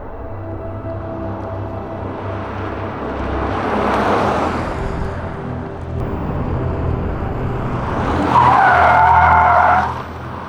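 A Volkswagen ID.7 Pro 2024 electric car is driven hard on a race circuit. Tyres hiss and squeal through corners in two rising swells, the second ending in a louder screech, with no engine roar.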